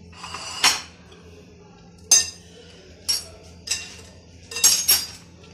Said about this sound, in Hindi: सबसे पहले हम अनार को काट लेते हैं